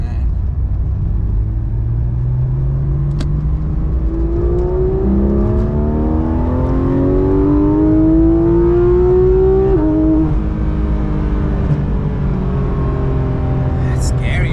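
A 2019 Porsche 911 GT3 RS with the Weissach Package accelerates through a community street, its engine note climbing through gears with rising harmonics, loud and close, while people talk over it.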